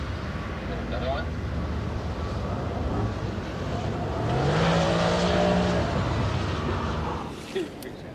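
A Mercedes AMG car drives on a skid pan, its engine rising and falling and tires hissing at moderate distance, growing louder mid-way, with people talking over it.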